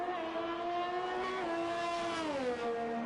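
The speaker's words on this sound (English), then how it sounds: "There is a McLaren coming out of the pits now." A McLaren Formula 1 car in the F1 2021 racing game pulls out of the pit lane at Italy with a steady, high-pitched engine whine that rises and dips slightly as it drives on, continuous and fairly close with no talking.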